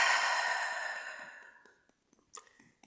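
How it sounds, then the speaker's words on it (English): One long, deep breath drawn close to the microphone, loud at first and fading over about two seconds, followed by faint small movements. "Take a nice deep breath."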